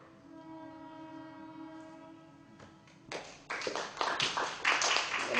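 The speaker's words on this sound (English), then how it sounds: "I'm going to let this train pass" A passing train heard after a poetry reading, first a steady low horn-like tone with harmonics, then a loud, clattering rush of rail wagons building in the last seconds.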